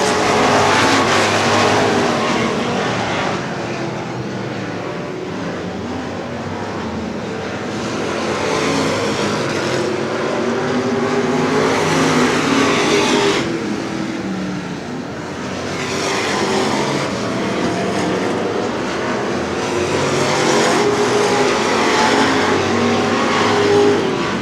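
Race cars circle a speedway track at Cotton Bowl Speedway, their engines droning in a continuous loud roar that swells and fades as the pack sweeps past, with no talk.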